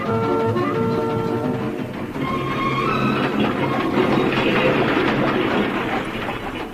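Steam train sound effect from a radio comedy about a rail strike, a continuous loud rumbling chug with rhythmic clatter of carriages on the rails, steady throughout with a faint whistle-like tone early on.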